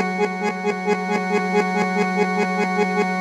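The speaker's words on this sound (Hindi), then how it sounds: "यही हमारा हारमोनियम है" A harmonium tone on a Casio CTX-9000IN keyboard holds a steady reedy drone while a rhythmic pulse of repeated notes taps out a quick, even beat. The sound is close and continuous.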